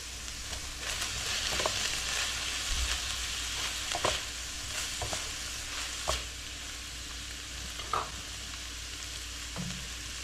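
Ground beef sizzling in a frying pan while being stirred, a steady close crackling hiss punctuated by scraping spoon strokes.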